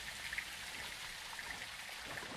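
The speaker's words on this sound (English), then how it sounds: "It's raining fucking hard." Heavy rain falling in Call of Duty: Modern Warfare II, a dense, even hiss of drops with scattered brighter splashes, continuous and fairly faint.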